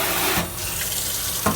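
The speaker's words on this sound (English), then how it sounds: "my kitchen sink / bathroom sink that's got a brand new Moen Adler faucet on it" Water runs steadily from a brand-new Moen Adler faucet into a kitchen or bathroom sink, a loud continuous close splashing stream with slight shifts in the flow.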